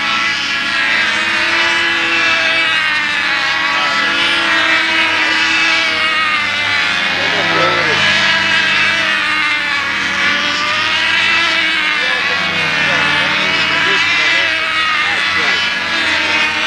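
A control-line model airplane engine, fitted with a Randy Smith PA-65, screams steadily at a practice flight on a windy flying field, loud and continuous throughout with a slightly wavering pitch as the plane circles, while people talk faintly.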